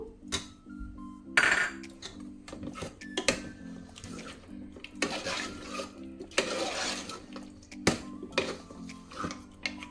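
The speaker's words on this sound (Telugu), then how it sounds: "ఇంకా కొత్తిమీర వేసేసుకుని ఒకసారి కలిపేసుకుందాం" Mutton curry in Andhra-style spicy gravy being stirred with a spoon after coriander leaves go in, giving scattered scrapes and clinks of metal against the pot over a steady low hum.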